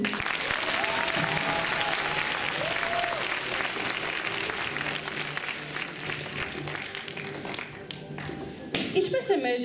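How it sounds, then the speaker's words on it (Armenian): An audience at a children's church gathering applauds continuously, a dense wash of many hands clapping that fades toward the end, with voices mixed in. "Սենց եք ծափահարում։"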